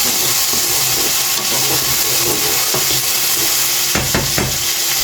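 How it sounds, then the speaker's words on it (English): Chicken tikka masala sizzles loudly in a pan while it gets a gentle stir, a steady bright hiss of frying with a few soft scraping knocks near the end, with no voices. "Give it one last gentle stir."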